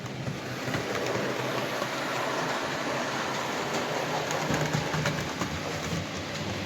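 A Hornby model railway locomotive runs on its track with a steady, close, continuous rumble and rattle, and faint clicks come through from time to time.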